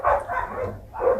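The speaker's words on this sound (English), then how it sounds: "even these dogs barking" Dogs bark in a quick run of three or four close, moderately loud woofs, with a faint low rumble of background noise underneath.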